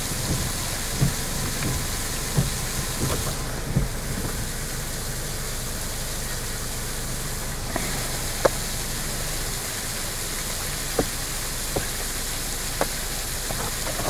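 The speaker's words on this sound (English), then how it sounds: "Probably another waterfall here." A waterfall in the wilderness beside a cliffside cow path gives a steady, enveloping rush of falling water, like heavy rain, with a few faint clicks and taps over it.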